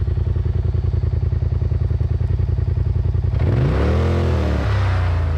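A Polaris RZR side-by-side engine chugs at a steady idle, then is revved hard, rising sharply in pitch before dropping back to a rough, loud idle, close by with no talking.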